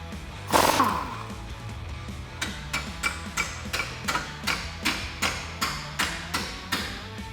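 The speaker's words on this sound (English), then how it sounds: "Grab a 21mm deep socket along with the 21 ratchet or wrench and get this bolt off." Ratchet with a 21mm deep socket working a front shock bolt loose on a 2009-2018 Ram 1500: one heavy clank, then a steady run of sharp, evenly spaced clicking strokes, close and fairly loud with no talk.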